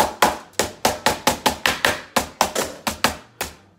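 Turkey meat being pounded flat for turkey rolls: about fifteen sharp, evenly spaced thumps in a steady rhythm, loud and close, with no talk.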